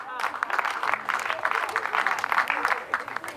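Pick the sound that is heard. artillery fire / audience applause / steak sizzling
audience applause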